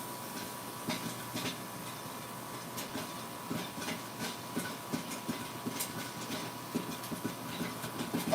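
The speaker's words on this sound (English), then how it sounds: "I don't know if you can hear that, but it's popping up really fast." Movie theater popcorn made with flavacol pops rapidly while cooking, a dense, continuous crackle of small sharp pops over a steady hiss, with no talking.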